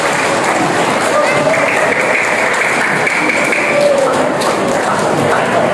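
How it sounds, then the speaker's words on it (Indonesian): At a Bugis-language religious talk celebrating the Prophet's birthday, an audience claps in a loud, continuous burst that stays steady and close throughout, with some crowd noise mixed in. "Tepuk tangan sedikit."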